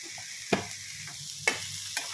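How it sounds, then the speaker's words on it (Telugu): Sliced bitter gourd fries on a low flame with salt and chili powder, giving a soft steady sizzle broken by a few clear scraping stirs of the pan. "ఇలానే లో ఫ్లేమ్లో ఫ్రై చేసుకుందాం"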